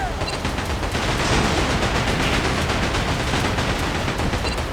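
Pirate ship cannons and guns firing in a dense, loud barrage in the video game Like a Dragon: Pirate Yakuza, continuous booming and crackling gunfire with no pauses.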